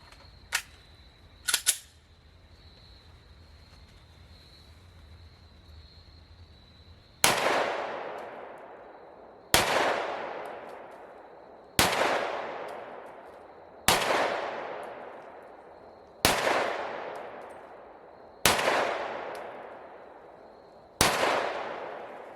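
Handgun shots at a shooting range: two small clicks, then eight loud, sharp reports spaced about two seconds apart, each ringing briefly away in the range, with a faint steady tone beneath and no talking.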